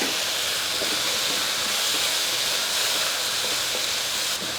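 Chicken breast with bird's eye chili and salt sizzles in a hot pan, a loud, dense, unbroken frying hiss close by with no voices.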